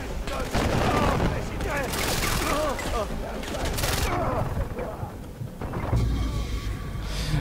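Rapid gunfire from an overpowered weapon in Far Cry 4, dense bursts of close shots and booms rattling for several seconds before easing, with game sounds mixed in.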